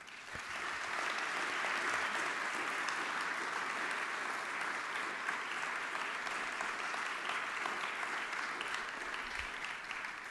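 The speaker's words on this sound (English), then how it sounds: "Can we give a round of applause to all those staff," An audience at a school launch event gives sustained, dense applause for staff, holding an even, loud level throughout with no pauses or talking.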